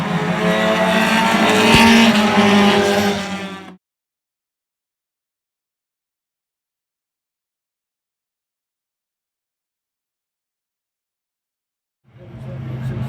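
Race cars at Oyster Bed Speedway roar loudly for several seconds, then there is a long stretch of total silence before the engine noise returns.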